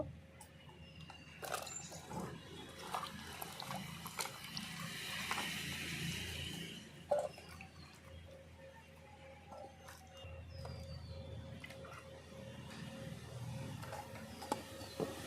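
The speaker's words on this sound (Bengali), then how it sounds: "বেগুন ভালো করে ধুয়ে নেব" Eggplants are washed in water with light splashing, trickling and occasional clatter of handling. The sound is faint and continuous, with no talk.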